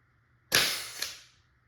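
A Tippmann TiPX less-lethal pistol fires a single sharp pneumatic shot, loud and close, with a brief decaying hiss and a faint secondary snap after it, against a quiet background.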